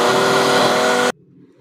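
An old kitchen blender whirs loudly while mixing homemade Nutella, a harsh, steady motor whine that cuts off abruptly after about a second, leaving a quiet low hum.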